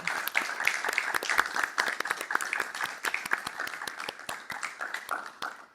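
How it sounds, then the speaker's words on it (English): Steady applause from an audience, many hands clapping in a dense, continuous patter that holds at an even level throughout. "So round of applause for all of you."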